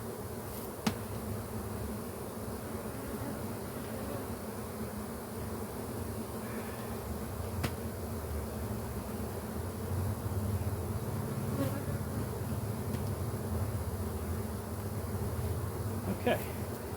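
Honeybees working over nectar-wet combs and a metal bench in autumn, a steady dense buzzing swarm close by, continuous and even throughout with a few louder passes of individual bees near the listener.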